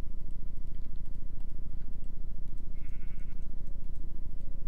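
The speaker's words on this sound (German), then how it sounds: "Dieses Schaf, ey." A sheep bleats in the Minecraft video game, one quavering call rising out of a constant rhythmic background of game music or ticking, loud and close.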